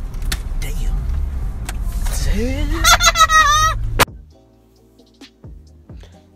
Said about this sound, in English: That sound at the very end was Bartsch punching the roof of his car